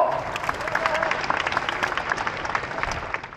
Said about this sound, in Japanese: 拍手で迎えましょう。